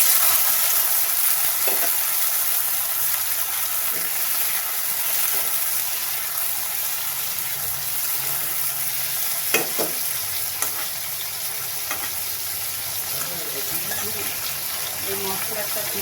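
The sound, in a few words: carrots frying in oil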